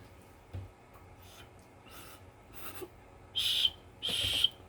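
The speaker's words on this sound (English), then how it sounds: "and the whistle right there." A small whistle built into a Sharpal 6-in-1 knife sharpener gets blown softly, two short shrill bursts near the end after a few faint taps and breaths, with no talking.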